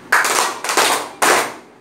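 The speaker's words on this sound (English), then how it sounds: "clap hard" Classroom students clap hands together in three loud bursts of mixed clapping, each a few tenths of a second long, close and without talking.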